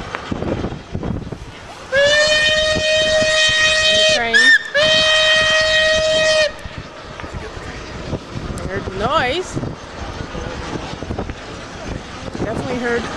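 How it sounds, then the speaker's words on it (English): A train horn blows one long sustained blast followed by a second shorter one, loud and fairly close, amid gusty wind and outdoor rumble. "Definitely heard the train."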